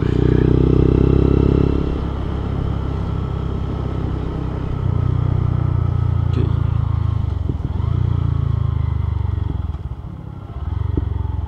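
A motorcycle idles loud and close with a deep, steady exhaust rumble, broken by occasional faint crackles and pops from the exhaust and a brief dip in engine note near the end.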